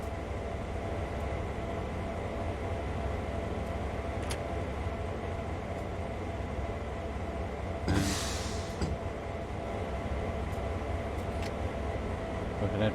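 A locomotive in the Train Sim World 2 simulator rumbles steadily along the track with a constant low drone and faint rail clicks, joined by a brief hiss partway through.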